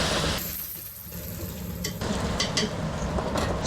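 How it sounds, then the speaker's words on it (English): Noodles frying in a hot oiled wok give a dense, close sizzle, with a few light clinks of utensils against the metal. "Now we're going to fry the noodles."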